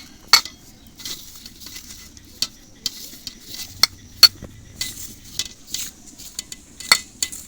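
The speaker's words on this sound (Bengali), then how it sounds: "এবার সব কিছু উপকরণ শুকনো একটু মাখিয়ে নেব এইভাবে" Dry ingredients, flour with baking powder and a pinch of baking soda, hand-mixed in a bowl for a lote fish chop batter: sparse, close clinks and scrapes of a utensil against the bowl, irregular and with no talk.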